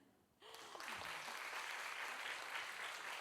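An audience at a lecture by an actress bursts into applause after a brief quiet moment, the clapping rising quickly and holding steady and full to the end.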